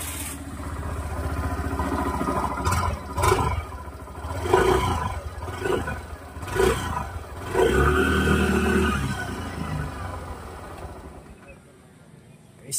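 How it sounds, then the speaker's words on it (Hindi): A scooter's exhaust note as its engine is revved up and down in several surges, close and fairly loud, with a steady idle rumble between blips before it fades near the end. "कुछ इसका एग्जॉस्ट नॉट सुना देता हूँ"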